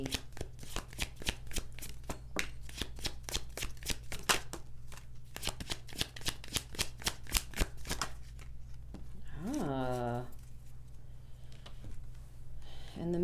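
Tarot cards shuffled in a rapid, steady riffling run of crisp close clicks for about eight seconds, then a softer pause with a brief rising voice-like sweep and faint handling.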